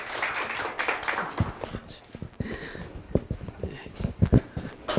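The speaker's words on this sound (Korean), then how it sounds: "박길련 목사님 박수로 환영하겠습니다." Scattered applause from a church congregation welcoming a pastor before a lecture, starting thin and building into irregular claps, moderately close over a low murmur.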